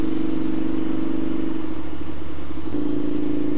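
A motorcycle engine rumbles close by, its pitch dipping and wavering briefly in the middle before returning to a steady, loud hum.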